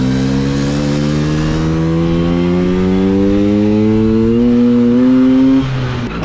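A Vespa scooter engine pulls steadily while being ridden, its note climbing gradually as it accelerates through the gears, loud and close for several seconds before easing off at the end, with no talking over it.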